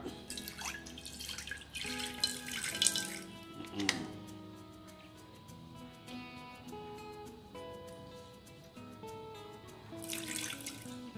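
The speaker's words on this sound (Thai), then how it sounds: "ตอนต่อไปเราก็ใส่น้ำไปหน่อยนะครับผม น้ำไปหน่อยนะครับ" Water poured into a cooking pot while making Thai catfish curry (gaeng om pla duk), a steady running splash with brief louder bursts near the start and end.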